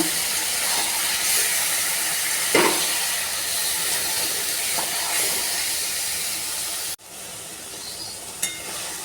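Curry mixture of Kashmiri chili powder, turmeric and salt being sautéed in a pan, producing a continuous loud sizzling hiss with a few brief clanks of stirring.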